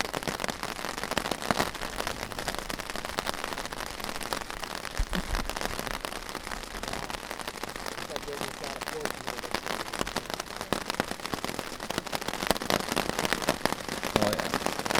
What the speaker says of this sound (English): Rain's starting to pick up again.